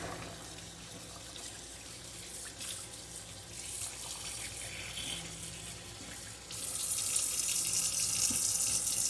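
Hands are rinsed under a running kitchen tap, a steady hiss of water splashing into the sink that grows louder and brighter as the flow increases near the end.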